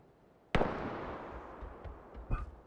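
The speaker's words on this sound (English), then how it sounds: "It sounds like he's shooting at me." A single sharp, loud gunshot-like crack followed by a long rolling echo, with a smaller muffled pop near the end, sounding outdoors and at some distance.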